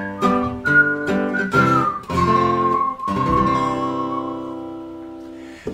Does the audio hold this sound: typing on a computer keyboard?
no